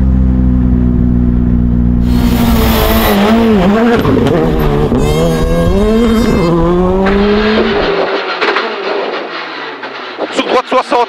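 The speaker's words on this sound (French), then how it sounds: "premier à s'élancer, Adrien Fernémont, numéro 1 sur les portières. C'est parti pour la course au titre 2020." A rally car launching at the start of a 2020 championship stage: loud engine revving and climbing through gears up close, rising whine and shifting tones, then pulling away with crackling pops as the sound tails off.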